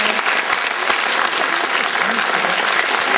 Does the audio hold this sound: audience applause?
yes